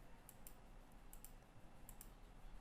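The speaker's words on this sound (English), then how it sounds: "You can type the signals here" Faint keystrokes on a computer keyboard, a few soft clustered clicks spaced across a quiet, hissy background with no talking.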